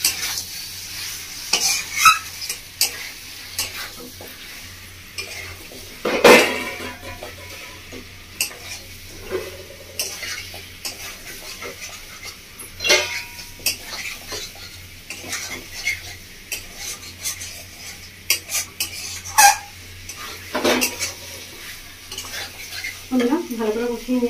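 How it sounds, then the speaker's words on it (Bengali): Mutton curry with kasuri methi stir-fried in a pot, with steady spoon scraping and stirring clatter over a soft, continuous sizzle, the metal knocks irregular and close. "মেথিটা দিয়ে আরও 2-3 মিনিট মতো কষিয়ে নেব।"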